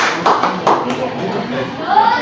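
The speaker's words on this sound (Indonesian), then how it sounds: "Kasih tepuk tangan dulu." Short bursts of classroom clapping for a student group's presentation, a few sharp claps mixed with children's voices talking nearby.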